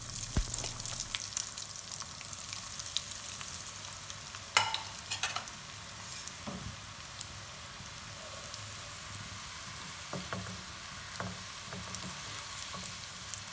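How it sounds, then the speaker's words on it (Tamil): Soft, steady sizzle of onion rings frying in hot oil, with occasional light clicks and stirring scrapes throughout. "நாம் எடுத்து வச்சுருந்த ஆனியன் ரிங்ஸை அதில் போட்டு பொரிக்க போகிறேன்."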